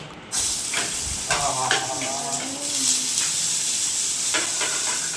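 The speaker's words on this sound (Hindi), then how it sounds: "ये काट रखी भाई मैंने प्याज और शिमला मिर्च मिक्स काट ली। अभी इनको फ्राई करूंगा।" Chopped onion and bell pepper frying in a pan, giving a steady, close hiss and sizzle with occasional utensil clatter throughout.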